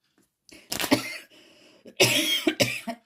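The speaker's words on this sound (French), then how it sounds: "Et je tousse." Several harsh coughs come in two close bursts, near and fairly loud, with a short pause between them.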